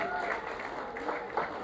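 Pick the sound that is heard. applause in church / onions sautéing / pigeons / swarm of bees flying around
applause in church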